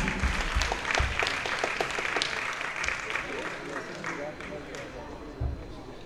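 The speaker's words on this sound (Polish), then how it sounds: "wielkie brawa Kamil Kulachowski." A crowd at an amateur American football game applauds steadily, with dense, continuous clapping at moderate loudness that carries through the whole stretch while a commentator talks over it.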